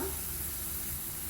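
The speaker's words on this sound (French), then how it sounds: "je remue bien pour éviter que ça n'accroche" Bacon lardons sizzle dry in a pan without fat while being stirred, giving a brief, steady, fairly loud hiss with no talking.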